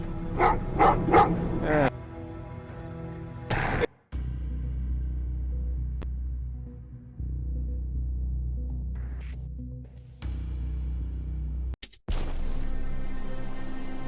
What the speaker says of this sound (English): Oh, what's with the dogs?